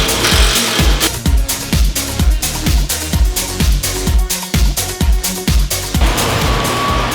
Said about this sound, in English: So right now we're just running a tap, just clean all the threads, make sure there's no powder in them